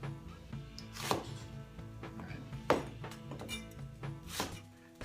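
A knife chops an onion on a cutting board, giving a few sharp, irregular thunks against the board at close range. A low steady background hum runs underneath, and no one talks.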